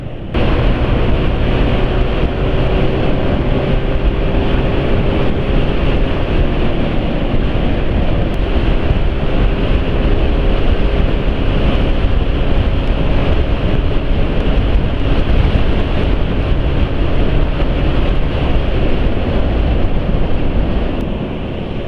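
Steady, loud roar of wind buffeting the microphone as a motorcycle runs fast on the road, a continuous rushing noise with no talk over it.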